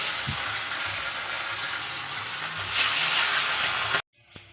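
Fish dropped into hot oil in a pan after a batch of pumpkin flower fritters, giving a steady broadband sizzle and hiss close up that runs unbroken for about four seconds before cutting off sharply.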